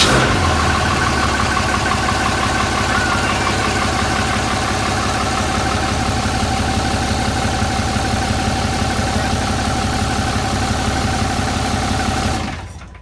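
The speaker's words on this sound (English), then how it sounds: "ready to crank this Dodge, y'all, for the first time" A Cummins diesel engine in a Dodge runs at a steady, close, loud idle with a fast, even clatter throughout, then cuts off abruptly at the end.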